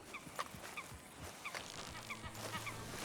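Repeated honking quacks from a few ducks in Red Dead Redemption 2, evenly spaced over a low steady ambient hum and scattered rustling, moderately loud and close.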